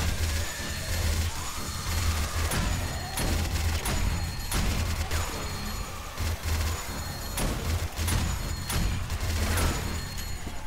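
Gunfire in the video game 7 Days to Die: a rapid run of loud, sharp shots with heavy crashing impacts over a constant rumbling game backdrop, with no talking.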